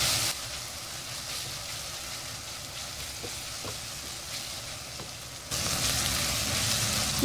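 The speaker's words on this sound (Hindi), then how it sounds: "तीन से 4 मिनट मसाला डालने के बाद इनको भूनें।" Minced meat frying with masala in a pan, a dense continuous sizzle close by with faint occasional ticks of stirring, swelling louder near the end, no voices.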